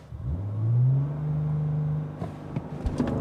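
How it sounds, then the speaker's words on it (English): A 2023 Bentley Flying Spur Speed V12 sedan launches hard under launch control, its engine note swelling loud and close into a sustained rising pull, followed by clicks and shifts near the end. "Let me see if I can get the launch control to work properly this time."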